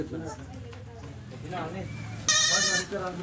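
Kathiawadi goats arriving by vehicle, a couple of close, quavering bleats, one louder and harsher near the end, with people talking around them.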